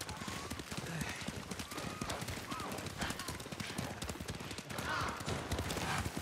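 Steady clip-clop of horse hooves trotting at a brisk rhythm in the game Ghost of Tsushima, close and fairly loud, with faint background noise.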